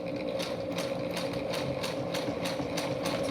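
A sewing machine stitches a fabric mask, adding a back stitch, with a steady close mechanical whir and faint rhythmic ticking of the needle running continuously throughout.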